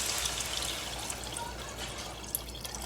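Tap water poured steadily into a cooking pot for Haitian herring and okra rice, a close, continuous splashing trickle with no talk.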